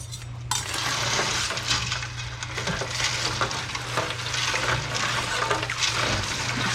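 Homebrew being stirred in a pot sitting in an ice water bath, a steady swishing, sloshing churn of liquid and ice that continues without pause, close and alone.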